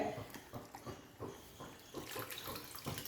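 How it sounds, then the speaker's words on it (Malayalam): Tamarind water, squeezed by hand from tamarind pulp, is poured into a cooking pan for a prawn curry, giving a steady watery splashing pour at close range with no talk. "കുറച്ച് വെള്ളത്തിൽ ഒന്ന് പുളി ഞെരടി ഇതിലോട്ട് ഒഴിച്ചു കൊടുക്കാം"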